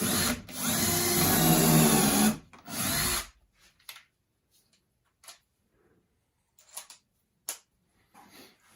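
A power drill drives drywall screws into a wooden table saw sled in two loud, close bursts of whirring, followed by quiet gaps with faint clicks and handling noises.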